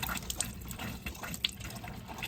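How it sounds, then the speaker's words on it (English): A garden hose runs water into a tank, giving a faint, steady trickle and splash with a few small drips standing out above it, no speech. "get the hose set up and see how long it takes to fill the tank"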